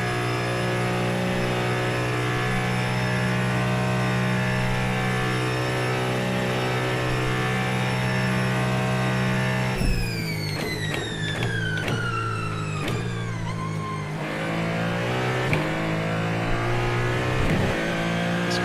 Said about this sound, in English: this car's engine is very soothing.